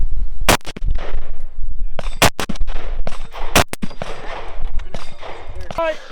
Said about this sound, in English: I'm not used to shooting off the weak side with my rifle